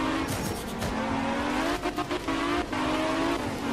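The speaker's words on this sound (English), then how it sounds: "Nice, that was a good recovery drift." A rally car drifts in art of rally, tires squealing in a long, wavering howl over a revving engine, with the squeal breaking into short choppy bursts before settling again.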